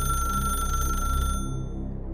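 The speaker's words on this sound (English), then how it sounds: "the rotary phone in the bedroom. I heard it from across the house, a shrill, mechanical ring that echoed through the rooms" Shrill mechanical ring of an old rotary telephone in a house bedroom, a steady continuous bell tone that stops partway through, leaving a low hum behind.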